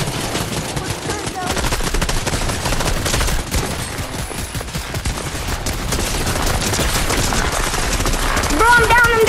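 A placed turret in the video game Fortnite fires continuously in dense rapid bursts, loud and unbroken throughout, with battle noise mixed in.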